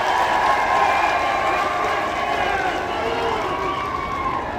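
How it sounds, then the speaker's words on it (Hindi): An audience at a political event applauds to welcome the chief minister, with broad continuous clapping and crowd noise holding steady and slowly easing toward the end. "एक बार तालियों के साथ स्वागत कर दें।"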